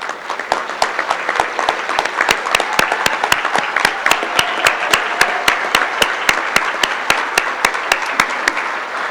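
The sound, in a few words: round of applause for Hall of Fame members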